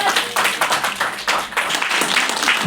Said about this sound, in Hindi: तो तालियां साथ में बजती रहनी चाहिए